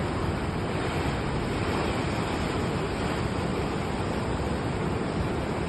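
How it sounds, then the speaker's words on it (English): Ocean waves crash against rocks and a sandy beach at Keurboomstrand, Plettenberg Bay, making a steady, dense roar of surf with some wind noise and no talking. "listen to the waves crashing against the rocks or on the beach"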